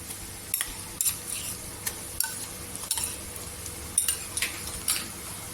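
Ginger-garlic paste fries with golden onions in oil in a pan, a soft sizzle under sharp metal spoon scrapes and clinks as it is stirred.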